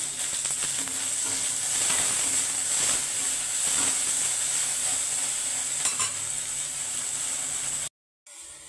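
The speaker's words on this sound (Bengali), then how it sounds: "দেখো ঢ্যাঁড়সটা ভেজে দিতে হবে" Salted okra (ladies' finger) fries in a pan with a steady, close sizzling hiss and intermittent scraping and rattling of stirring, continuing for several seconds before a brief cut to silence.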